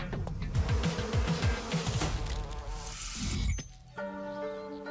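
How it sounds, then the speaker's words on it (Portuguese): Wasps and wild Japanese honeybees buzzing in a dense, continuous drone close by, steady for a few seconds before thinning out near the end. "Diferente das importadas abelhas europeias que foram massacradas pelo ataque das vespas, as selvagens abelhas do mel japonesas estão preparadas."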